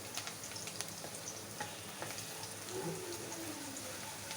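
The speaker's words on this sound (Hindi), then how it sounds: "अब मैं इसमें लहसुन डालूंगी और इसको ब्राउन करूंगी" Chopped garlic fries in hot oil in a pan, a soft continuous sizzle with faint crackles and occasional stirring clicks, quiet and close.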